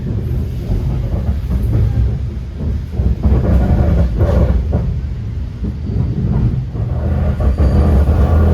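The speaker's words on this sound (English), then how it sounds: "we're riding a Blue Island bound MU" Onboard a Metra Electric Nippon Sharyo MU train bound for Blue Island, a steady low rumble of wheels and motors fills the car, with swells and rattles as it rolls along the line.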